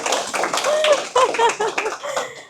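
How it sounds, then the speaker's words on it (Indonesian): Students in a university classroom clap together, a burst of fairly close hand claps mixed with lively voices chanting or calling out over the top. "Tepuk tangan."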